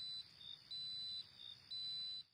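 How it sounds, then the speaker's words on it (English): Electronic beeping from a horror indie video game, a steady high-pitched tone pulsing on and off in regular bursts over a faint low rumble, with nobody talking. "I am going to lower audio just so we don't get a headache with all the beeps"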